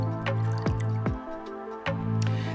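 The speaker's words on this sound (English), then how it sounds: "let's pour the coconut milk into our bowl" Coconut milk from a 14-ounce can is poured into a bowl: a few separate wet drips and thick plops over a low background hum.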